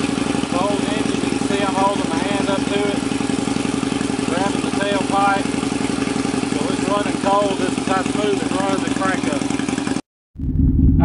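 A 2007 Harley-Davidson V-Rod engine runs with a steady, close low rumble under continuous talking, then cuts off abruptly near the end.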